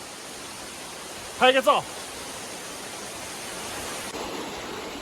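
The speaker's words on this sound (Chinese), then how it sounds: "走到这里又看到一个瀑布" A waterfall at Jiuzhaigou gives a steady broad rushing roar throughout, even and moderately loud, while a brief spoken phrase sounds over it.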